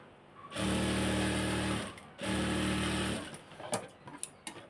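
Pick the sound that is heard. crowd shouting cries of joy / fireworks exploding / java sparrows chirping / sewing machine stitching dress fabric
sewing machine stitching dress fabric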